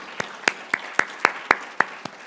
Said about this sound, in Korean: 박수로 한번 격려해볼게요